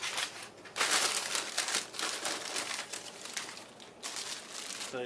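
Packing paper crumpling and crinkling while unboxing a pod filter and stainless steel intake parts for a MazdaSpeed Protege, a close, continuous rustle with several louder bursts and no speech.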